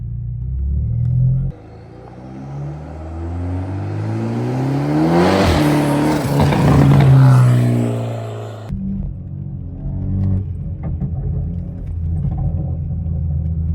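Toyota Supra engine on a road test drive, a close in-cabin rumble that climbs through a long rising rev, peaks, then eases back to a steadier low drone, with no talking.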